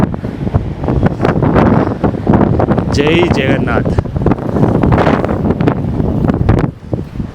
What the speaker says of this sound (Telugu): గాలి మాత్రం మామూలుగా లేదు.